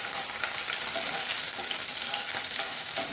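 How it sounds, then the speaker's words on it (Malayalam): Green chilies crackle and sizzle in hot oil with a dense, loud, continuous spitting hiss, heard up close without any talking. "പച്ചമുളക് ഇട്ടപ്പോൾ നല്ലോണം പൊട്ടാൻ തുടങ്ങുന്നുണ്ട്."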